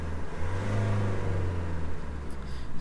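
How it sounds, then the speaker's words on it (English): A Nissan Navara pickup engine revs up and settles back, rising in pitch then easing, heard at moderate volume with no talking. "So as we're revving the engine"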